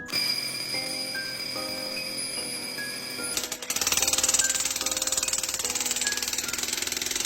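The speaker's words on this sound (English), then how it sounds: "I'm drilling out a couple of pockets in which to insert the beam" A drill bores pockets into tunnel rock to seat a steel beam, a loud continuous rapid hammering buzz that starts mid-clip after a quieter stretch of machine hum, no talking.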